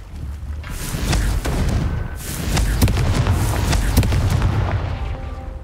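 Confringo spell blasts in the video game Hogwarts Legacy, a dense run of loud booming explosions piling over one another with a sustained rumbling roar.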